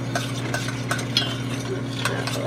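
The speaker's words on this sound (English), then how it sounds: "Try to stir it all up." Butter melting for caramel in a pan, stirred with a utensil that clinks and scrapes in irregular taps over a low steady hum, close and moderately loud with no talk.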